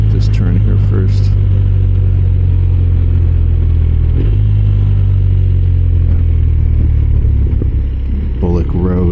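A BMW R 1250 RS motorcycle engine drones steadily and loudly through a turn, a low rumbling hum with slight rises as the rider leans in, plus faint clatter near the start and end.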